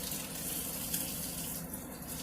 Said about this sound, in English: Okay, it just started boiling.